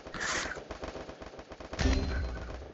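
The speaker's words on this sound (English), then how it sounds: "I hear gunshots." Rapid bursts of gunfire in the game Escape from Tarkov crackle steadily, with a heavier, louder volley near the end.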